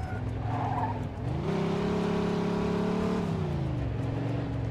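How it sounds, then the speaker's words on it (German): A car in the video game Mafia 2 revs hard and accelerates with a rising engine whine, then its tires squeal in a long loud skid before the engine note drops again. "Das Auto ist echt verdammt schnell."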